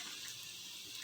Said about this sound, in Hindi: पालक का पानी भी हमने इसी में शामिल कर देना है